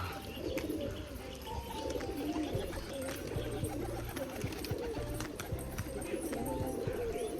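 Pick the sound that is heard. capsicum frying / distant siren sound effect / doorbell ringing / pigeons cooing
pigeons cooing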